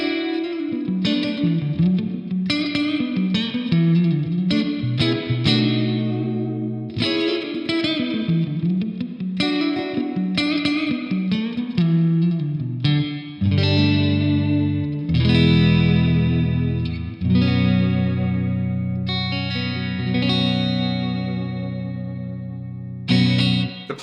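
Electric guitar played through a cheap 50W gigging amp with plate reverb, loud chords and picked notes ringing continuously with a slightly dark, washy tail, no talking.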